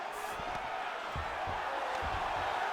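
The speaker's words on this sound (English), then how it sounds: "crowd absolutely loving it as the fighters, however compromised, make their way back to the feet" Arena crowd cheering and roaring in EA Sports UFC 5 during a fight, a steady dense wash of noise with a few low thumps underneath.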